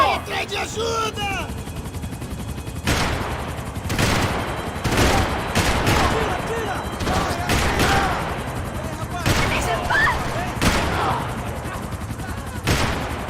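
Loud, close gunfire in Max Payne 3 arrives as repeated bursts of rapid shots and separate heavy cracks. A helicopter-like drone runs underneath, with shouted in-game dialogue and a player's voice over it.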